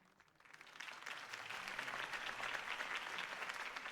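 Applause from a crowd in Batman: The Telltale Series swells up quickly and continues steadily as a dense, even patter of many hands clapping, heard from a moderate distance.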